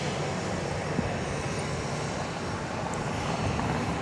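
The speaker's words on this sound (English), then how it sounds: "Headed to the end of runway 31 left for takeoff" Aircraft engine noise at Dallas Love Field at night as a plane taxis toward runway 31 left for takeoff, a steady broadband jet roar holding at a constant level through the whole stretch, with no voices.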